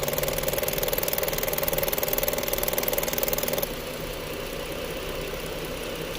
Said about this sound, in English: But you hear how it's like stalling now?